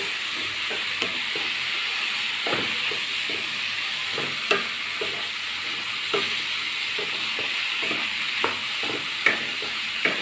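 Chicken sandwich filling with green chili and black pepper sizzling in a pan while a spoon stirs it, with repeated scraping knocks over a steady frying hiss.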